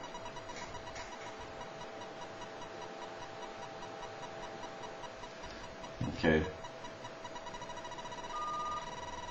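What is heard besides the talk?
telephone dial tone from line analyzer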